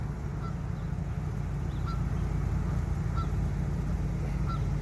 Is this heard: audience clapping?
no